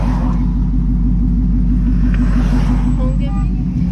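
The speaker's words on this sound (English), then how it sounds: "California traffic" Steady road traffic at a California intersection outside a Starbucks, a continuous low engine rumble of idling and passing cars, close and even throughout.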